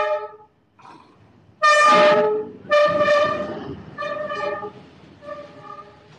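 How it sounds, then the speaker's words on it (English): A train edges through Hanoi's narrow train street, passing close by, with loud, rising horn blasts that sound in several separate bursts over the low rumble of the cars. "Okay, here's the train. Here it is. The famous train street."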